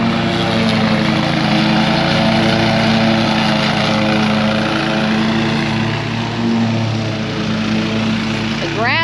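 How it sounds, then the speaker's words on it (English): A lawn mower cuts thick, wet grass with a loud, steady engine drone that runs unbroken close to the microphone throughout. "Sean's already started mowing."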